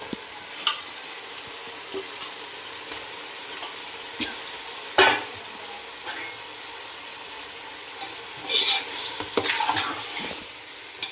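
Chicken frying in a pan, heard as a continuous soft sizzle with occasional scrapes and clinks of the stirring utensil and a louder scraping flurry near the end, close by.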